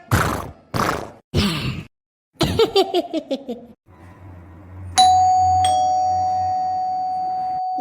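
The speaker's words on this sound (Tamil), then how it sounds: "யாரோ காலிங் பெல் அடிக்காவ பாருங்க" Short bursts of laughter and giggling come first, then a doorbell rings out with a clear ding-dong, its tone lingering and slowly fading.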